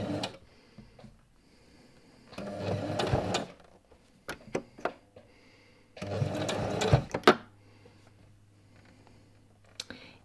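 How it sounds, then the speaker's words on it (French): A sewing machine runs in two sustained stretches of rapid, whirring straight stitching along the binding edge of a tulip-patterned quilt, with short clicks and pauses between runs, close and clear. "on va maintenant coudre, toujours au point droit, hein, ici, là, vraiment le plus près du bord possible"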